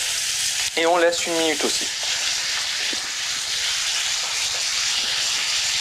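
Beef entrecôte steak sears in a hot pan, a steady broadband sizzle running throughout, while a voice speaks briefly near the start.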